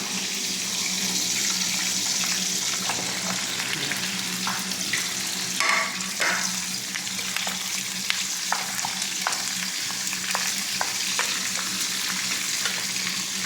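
Papaya sautéing in a pan for ginataang papaya gives a steady close sizzle and fry, with occasional clinks and scrapes of stirring throughout.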